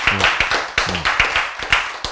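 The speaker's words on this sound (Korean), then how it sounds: "박수." An audience claps in quick, evenly spaced bursts, a steady round of handclaps heard close and with no talk.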